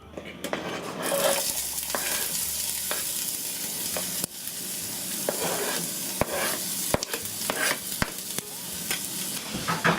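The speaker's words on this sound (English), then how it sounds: "We're going to throw our onions and garlic in there" Onions and garlic frying in hot oil in a pan, a loud continuous sizzle broken by sharp stirring scrapes and clicks throughout, with no talk.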